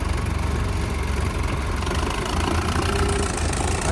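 A tractor engine with a damaged tyre runs loud and steady throughout, a continuous close-up rumble with a knocking, idling character and no clear rise in revs.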